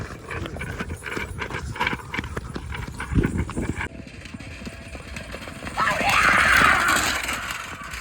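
A horse named Raja clip-clops through a Kalya Bavrya fera procession, with steady, close hoofbeats alongside mechanical rattling and voices talking nearby.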